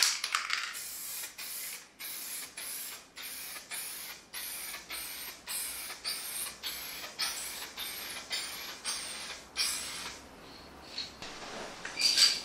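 Aerosol spray dip applied in light coats to the face of car rims, a rapid series of short hissing spray bursts with brief gaps and faint clicks, close and fairly quiet.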